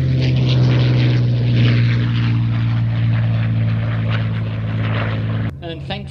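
A Russian Spitfire with a piston engine and propeller passes overhead at a public air display. Its loud, steady engine drone carries a strong low hum the whole time, then drops away suddenly near the end.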